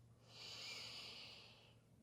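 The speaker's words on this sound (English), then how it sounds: "Once more, breathing in through the nose" One slow, steady breath drawn in through the nose during a gentle beginner yoga session, soft and airy. It swells and fades over about two seconds against a faint background hum.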